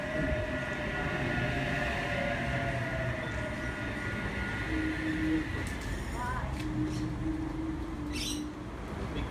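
Train H32 sits at Koolewong station, a steady low rumble with sustained tonal hums and a few brief higher whines, moderately close, with faint bird calls in the background.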